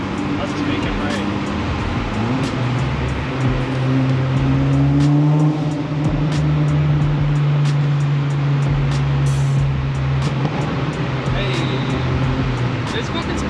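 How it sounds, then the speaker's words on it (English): Mitsubishi EVO 9 driving through a tunnel, its engine droning steadily at close range with a rising and falling pitch and a loud enclosed roar throughout, while people talk over it. "We're going through a tunnel."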